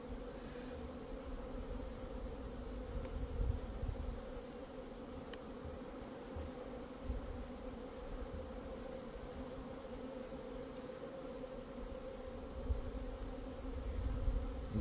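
Honeybees buzz around the hive in a dense, continuous drone, many wings humming together at close range with faint swells and dips in loudness throughout.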